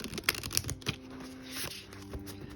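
A deck of floral tarot cards, major arcana only, on slightly light mid-weight card stock, riffle shuffled close up with quick crisp fluttering bursts and soft taps as the halves bridge together.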